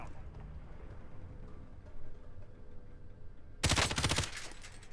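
Gunfire bursts out in the Warzone video game after a quiet stretch, a loud rapid cluster of shots near the end over low background rumble.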